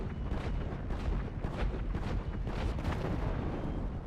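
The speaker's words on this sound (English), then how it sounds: "everybody in this area kept shooting at my Avenger" Sustained gunfire aimed at an Avenger aircraft in the video game GTA Online, a dense, continuous roar of shots and booming blasts with no pause, loud and steady throughout.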